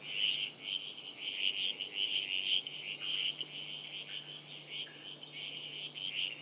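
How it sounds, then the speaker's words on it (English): Strawberry poison dart frogs, also called blue jeans frogs, call from rainforest undergrowth in Costa Rica as a steady, high, insect-like buzzing chorus that pulses on and off against a constant whine of background insects. "The calls of little blue jean frogs, also known as strawberry poison dart frogs, reverberate through the undergrowth."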